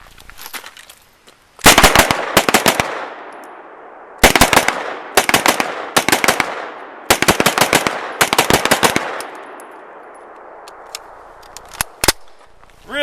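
IMI Uzi SBR submachine gun firing on a range: several loud, close automatic bursts of rapid shots separated by short pauses, each trailing off into echo, then a final single shot.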